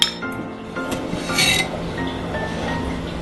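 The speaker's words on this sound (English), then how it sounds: "And then we'll go ahead and put in some sugar." Sugar spooned onto shredded green papaya for an Asian papaya salad, giving a few light clinks of a spoon against the bowl over a soft steady rustle, with no talking.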